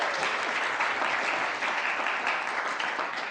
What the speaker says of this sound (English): Got to get that early round of applause, right?